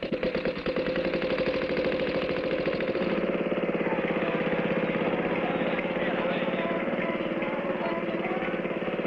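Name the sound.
motorized rickshaw engine in a cartoon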